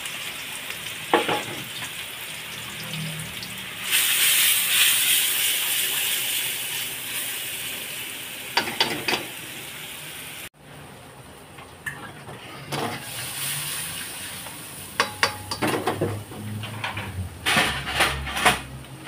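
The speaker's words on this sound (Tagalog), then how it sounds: "Okay, sautein na natin ang ating onions and garlic" Onions and garlic sizzle steadily in hot oil over high heat while being prepared for ngohiong, with scraping stirs and clinks of a utensil against the pan breaking through the constant frying hiss.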